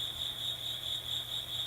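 A nearby cricket trills steadily and loudly, a constant high pulsing chirp with nothing else heard apart from a soft low background hum.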